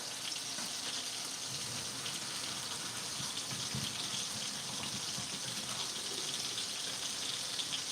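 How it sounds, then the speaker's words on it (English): Water gushes and hisses steadily as cooked pasta is poured into a strainer in a kitchen, a continuous rushing splash at moderate level with no talking. "So we'll strain these guys."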